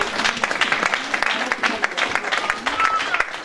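A church congregation applauds and cheers during a French-language sermon, with dense, close clapping over a few seconds and voices mixed into the crowd noise.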